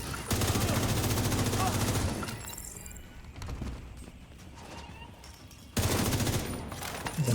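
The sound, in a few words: gunfire from shooting in a video game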